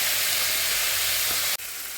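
Small kachki fish frying in oil in a pan for a Bengali onion-and-potato chorchori, giving a steady, close, dense sizzle throughout that briefly dips near the end before carrying on.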